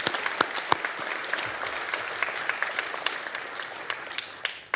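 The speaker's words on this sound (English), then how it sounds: "They deserve an applause." Audience applause at a university presidential inauguration ceremony, a continuous field of clapping with a few sharp, close individual claps standing out, fairly loud and unbroken.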